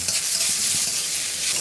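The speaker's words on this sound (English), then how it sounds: "Stir-fry quickly on high heat until they start to brown." Chicken livers sizzle hard in a hot wok over high heat, a dense, steady hiss of frying oil with faint stirring underneath, loud and close with no voices.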